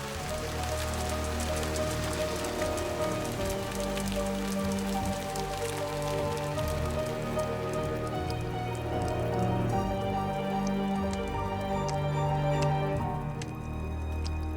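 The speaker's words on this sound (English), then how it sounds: "Acid rain poured from the sky" Steady acid rain falling hard, with a dense, continuous patter of drops hitting surfaces.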